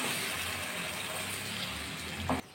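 Hot water pours into a pan of jackfruit and potato curry in a continuous, close splashing gush that cuts off sharply just before the end.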